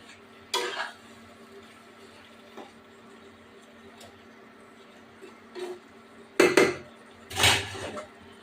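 Lightly fried cauliflower and potato pieces tipped into a pan for a Bengali cauliflower curry and stirred, giving a few sharp scraping clatters of spoon against metal, one early and a louder cluster near the end, with quiet gaps between.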